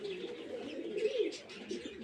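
A pair of domestic pigeons coos softly nearby in a quiet loft, their low murmuring calls rising and falling with a few faint chirps and no speech.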